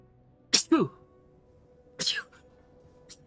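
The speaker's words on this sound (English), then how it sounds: "I couldn't hold back the sneeze." A man sneezes sharply twice in quick bursts, close to the microphone, followed by a smaller sniff or breath during a casual gaming voice chat.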